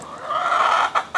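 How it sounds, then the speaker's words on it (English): Backyard chickens clucking in a short, close burst, a steady run of calls followed by two sharper clucks at the end, with no talk. "Who says backyard chickens are quiet?"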